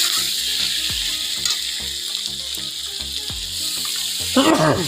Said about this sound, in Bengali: এখন আমি দিয়ে দেবো এখানে পরিমাণ মতো জল